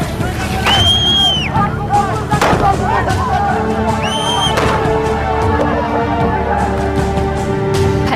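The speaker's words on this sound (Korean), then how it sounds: "총성이 울려 퍼졌습니다." Gunfire during a street clash in Afghanistan rings out in a few sharp bursts amid a loud, chaotic crowd, with shouting voices and ringing tones over a dense background din.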